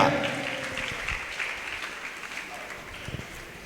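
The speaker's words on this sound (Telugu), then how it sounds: "గట్టిగా చప్పట్లు కొడుతూ" A congregation at a church gathering claps loudly together, a burst of applause that starts strong and gradually thins out, with a voice speaking over it.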